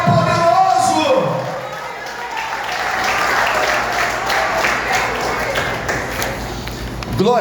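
Church congregation applauding loudly during a sermon, a dense sustained wash of clapping after a preacher's voice fades out, with speech returning at the end.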